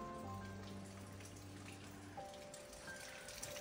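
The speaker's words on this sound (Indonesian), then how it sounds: "Cuaca di luar hujan dan angin kencang." Rain falling outdoors during a windy spell, a steady broadband patter heard throughout, with faint tonal hums running beneath and no talking.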